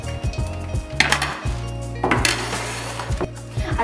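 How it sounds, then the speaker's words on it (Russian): A metal baking tray holding a rye loaf is set down and slid into an oven, giving a few sharp clanks and scraping knocks with short pauses between, close and fairly loud. "А теперь я ложу его на противень и убираю в духовку."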